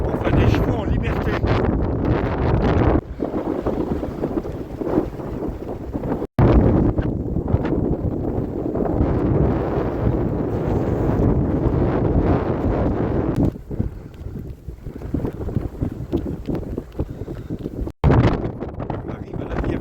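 Strong headwind buffeting a microphone outdoors on open countryside, a continuous loud rumbling roar with gusts that rise and ease, broken by a couple of brief sharp dropouts.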